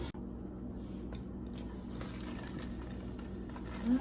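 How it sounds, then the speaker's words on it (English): A Filipino-style plantain dessert simmering in a pot, giving a steady low bubbling and burbling that holds evenly, close and moderately loud. "And just let it simmer."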